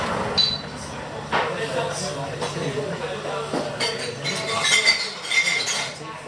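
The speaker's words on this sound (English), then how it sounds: "All the sights and sounds of a typical pub." Glasses and dishes clink sporadically inside a typical Irish pub in Fethard, Tipperary, with light chatter and background bustle around the scattered chimes.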